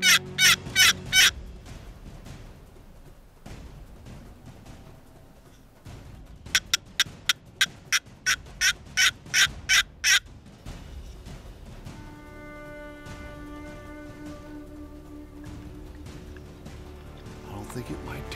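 A wild turkey gobbles in a burst near the start, then rattles off a longer gobbling run midway, fairly close in a quiet outdoor setting, with a steady tone rising later.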